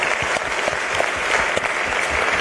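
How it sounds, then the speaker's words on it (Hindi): Audience applause in an auditorium during a religious discourse event attended by the chief minister, a steady dense clapping sustained throughout at moderate loudness. "एक बार फिर से ताली हो जाओ"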